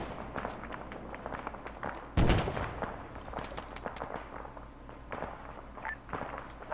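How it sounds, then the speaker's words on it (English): Gunfire in the video game ARMA 3: scattered distant shots and one loud close burst, with faint footsteps around them. "Where's that gunfire coming from?"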